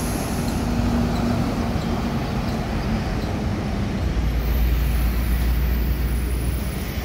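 A PT Bagus Jaya Trans bus passes through a busy bus terminal in the crowded pre-Lebaran travel season. A steady, loud engine drone and road rumble continue throughout with no pauses.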